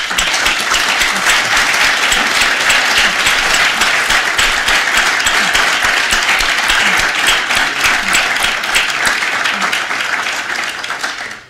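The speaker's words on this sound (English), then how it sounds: "I want to take a moment to pause and just to lend your applause" Sustained audience applause fills the hall at a global health lecture on malaria, loud and dense throughout and trailing off only at the very end.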